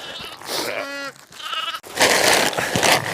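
A ewe bleats during lambing: one clear, wavering bleat close by, surrounded by shuffling and rustling in straw and a burst of broadband scraping noise near the end.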